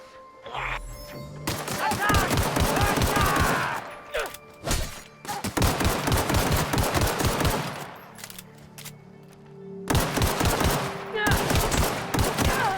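Rapid automatic gunfire from a player's weapon in a video game, loud close bursts of dense shots that repeat in several long strings with short pauses between, while a voice talks at times.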